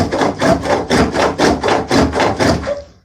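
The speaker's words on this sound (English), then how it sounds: "File, I meant a rasp." A rasp scrapes wood turning on a spring pole lathe in about ten close, rhythmic rasping strokes, each a short coarse burst with brief pauses between.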